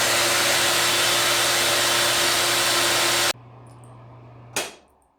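A hot-air blower or heat gun runs loud and steady, warming the bicep joint of a McFarlane Justice League Armored Darkseid action figure, then clicks off abruptly, leaving a quiet pause before a short sharp knock.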